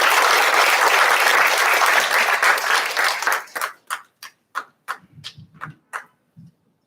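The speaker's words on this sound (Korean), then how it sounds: "저희의 따뜻한 마음 모아서 큰 박수로 한번 부드럽게 시작해 보겠습니다." Applause opening a social welfare policy meeting and agreement signing with a Daejeon mayoral candidate: a full burst of crowd clapping for about three and a half seconds, then thinning into a few scattered, separate claps with faint murmuring before it stops.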